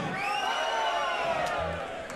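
A crowd cheers and whoops at a loud metal concert night, with MC Remon hyping the audience; dense, sustained crowd noise fills the whole stretch, close and steady.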